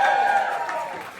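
A brief burst of cheering from guests at Allie and Matt's welcome dinner, loud voices calling out together with a high sustained shout that tapers within a second.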